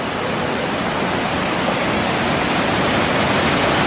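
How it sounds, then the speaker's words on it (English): A roaring waterfall at Secret Falls pours in a steady, loud, broadband rush of splitting water, continuous and close with no voices. "The roaring water that splits."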